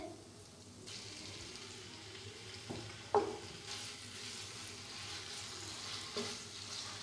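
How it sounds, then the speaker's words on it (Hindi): Small pieces of chicken frying in a pan with garlic, a soft continuous sizzle with occasional stirring clinks and scrapes, fairly quiet and steady throughout. "अब हम चिकन को इतना फ्राई करेंगे कि ये पिंक से वाइट हो जाए"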